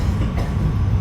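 A Chicago elevated train at Merchandise Mart station, a loud steady rumble of rolling wheels and car noise throughout, with no voices.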